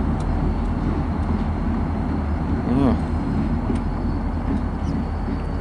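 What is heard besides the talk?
train passing, freight train with SD40 locomotives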